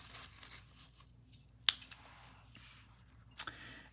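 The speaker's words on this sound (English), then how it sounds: "And I'm going to cut around the flower here." Scissors snip through embossed tissue paper, cutting around a flower shape: a few sharp, close, quiet clicks and crisp cuts spaced apart against a soft room hush.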